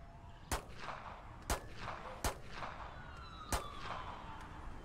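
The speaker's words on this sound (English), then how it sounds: "We got active shots fired here." Four sharp gunshots from the police video game Keep the Peace ring out at irregular intervals, each a loud crack over a steady, noisy background with faint siren-like tones.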